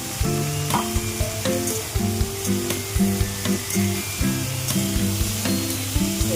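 Chickpeas added to a pan with cut potato and pumpkin fry with a steady close sizzle, punctuated by rhythmic scraping stirs and clinks of a utensil against the pan, no speech.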